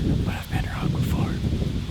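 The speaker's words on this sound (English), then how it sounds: "It is super windy up here today" Strong, gusty wind of over 30 miles an hour roars across a microphone beside a freshly picked cornfield during an October hunt in Buffalo County, Wisconsin, a loud continuous rumble with rustling over it.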